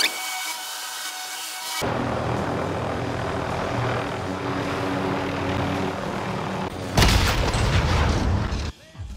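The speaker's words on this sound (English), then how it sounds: "that helicopter's trying to squish you" Helicopter in a Call of Duty Warzone battle royale match flying close overhead, a loud sustained rotor and engine roar filling the scene, with a sharp louder burst near the end.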